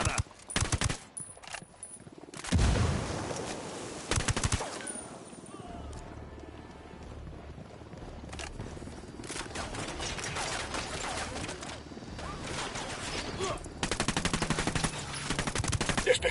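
Sustained automatic gunfire in the video game Ghost Recon, with dense rattling bursts, louder stretches and pauses, while a Spanish-speaking player shouts commands over the shooting.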